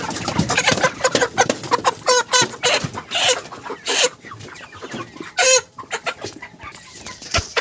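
A broiler chicken on a poultry farm clucks and squawks in sharp, irregular bursts as it is caught and handled for weighing, close to the microphone, with other birds faintly around it.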